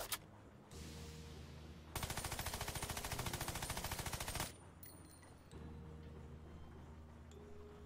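Machine gun fire in the video game Worms Battlegrounds: a loud, rapid, continuous burst of shots lasting a few seconds, with softer game sounds before and after.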